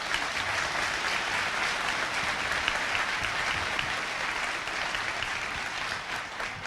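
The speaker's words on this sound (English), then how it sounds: "Could we give them a round of applause, please?" Audience applause for the Foxcroft Academy Band at a 2016 graduation ceremony, a sustained, even wash of many hands clapping throughout, fairly distant and steady without cheering.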